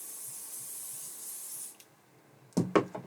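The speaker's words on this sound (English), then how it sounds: "I'm going to just do it with an adhesive spray on this one." An adhesive spray can gives a steady, close hiss for under two seconds while paper pieces are coated for a mini album. A few soft rustles and bumps follow.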